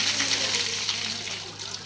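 Water splashes and gushes at a village well as a bucket is filled and drawn for bathing, a loud close wash of pouring water with someone talking over it.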